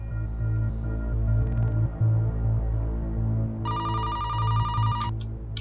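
A telephone bell rings loudly in a fast, trilling burst of repeated rings over a steady low hum, with no one speaking.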